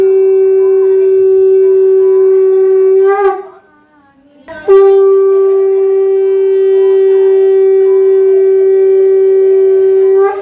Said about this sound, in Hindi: भगवान के शंख बाजल।